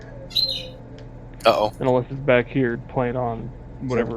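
A dog's new squeaky ball gives a couple of short, high chirp-like squeaks near the start, brief and bird-like, before people talk over the rest.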